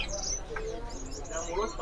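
A songbird in an aviary gives light, scattered chirps and short tweets at moderate distance, mixed with muffled background voices.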